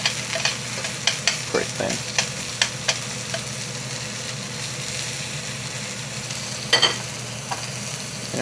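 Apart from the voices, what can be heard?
green onions grilling on a hot pan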